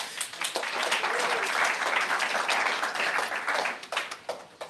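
A crowd breaks into a burst of applause, dense clapping that swells and then tapers off over a few seconds, with a voice briefly heard.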